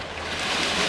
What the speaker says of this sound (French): là il y a une belle vague qui arrive, il y a des belles vagues qui arrivent